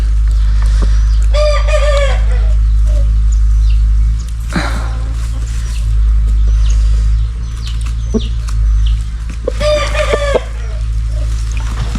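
A rooster being treated for a nail wound in its foot gives loud, close clucking calls in two short rhythmic bursts over a constant low hum, with faint knocks and handling noises between them.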